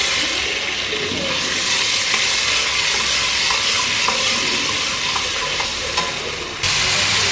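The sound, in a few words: butter and oil sizzling in pan for pav bhaji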